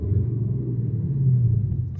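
An Audi S7 fitted with an HPA hybrid turbo upgrade revs, giving a deep, steady engine rumble nearby that swells slightly midway, with no talk over it.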